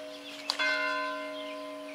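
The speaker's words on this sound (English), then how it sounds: "oh, that was a bell. Might be a church bell." A church bell in a small Indiana town strikes once, a clear ringing tone heard from a distance that hums and slowly decays over a steady background.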